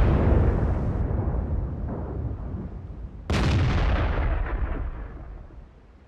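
A FV304 self-propelled artillery gun in a tank game fires twice: a heavy boom opens, and a second loud blast lands about three seconds later, each rolling off into a long fading rumble with no talk.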